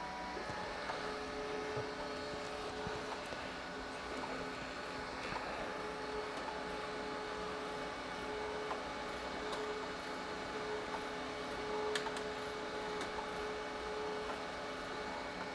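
A 3D printer runs while a Palette 3 Pro filament splicer feeds it, giving a steady, fairly faint mechanical hum with a constant tonal whine and a few light clicks, with no talking.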